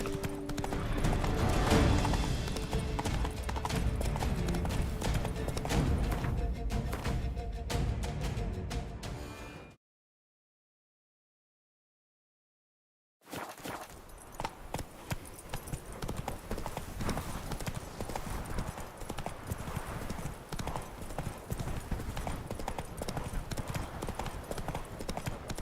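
The horse Roach galloping in The Witcher 3 video game, rapid rhythmic hoofbeats under game music, cutting to silence for a few seconds, then resuming as steady clip-clop.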